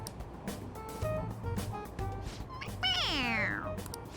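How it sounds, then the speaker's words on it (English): A stuffed cat toy in the Persona 5 Royal video game gives a loud, drawn-out cartoonish meow when its head is pressed, preceded by softer game sounds and faint chatter. "It meows when you press on its head."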